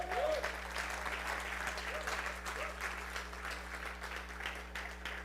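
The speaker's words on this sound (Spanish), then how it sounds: "Dele un aplauso a Cristo" A church congregation applauding during a sermon, steady clapping throughout under a constant low hum, with brief vocal sounds near the start.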